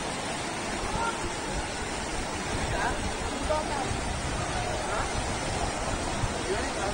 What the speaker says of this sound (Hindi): लेकिन सड़कों के ऊपर पानी इतना कि सड़क नजर ना आए। सैलाब सा बह रहा है।